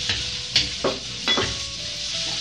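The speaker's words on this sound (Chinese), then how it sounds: "好，我们先开火，等锅热了我们倒油，不要太多，先把肉丝下去。" Shredded pork stir-fried in a hot wok with a little oil, a steady sizzle broken by several scraping, clattering stirs of the spatula close by, with no talking.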